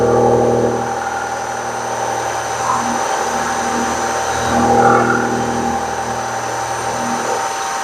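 A milling machine cutter takes a light cut in metal at a workshop mill, a steady mid-pitched machine drone with harmonic hum that rises slightly midway, heard close and alone without speech.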